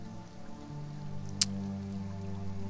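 Steady light rain patters in the survival game Sheltered, a soft continuous hiss over a low droning game ambience, with one brief sharp tick partway through and no talking.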